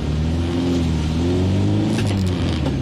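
A Chevrolet Voyage's engine revs hard at a traffic light, one close, loud, rising roar of the motor with no talk over it.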